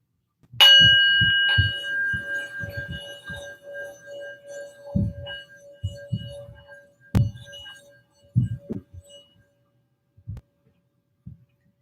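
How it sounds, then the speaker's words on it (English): A meditation bell is struck once to open a breathing practice, ringing out clearly and sustaining in a long, slowly fading hum. Soft low thumps and bumps occur around it as the ring decays, and a second, fainter strike follows later. "I'm going to ring the bell to invite us inward"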